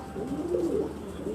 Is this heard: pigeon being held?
yes